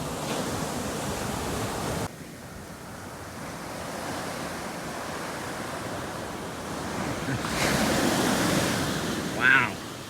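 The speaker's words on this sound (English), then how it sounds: "Those are heavy waves, huh?" Heavy ocean waves breaking along a shore, a broad continuous roar with surges of louder surf, wind noise on the microphone, and a brief high sound near the end.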